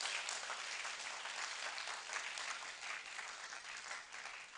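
Delegates at the DESAG-UCC 16th annual national congress in 2024 clap together, a fairly distant, uniform wash of applause that holds steadily and tapers slightly at the end.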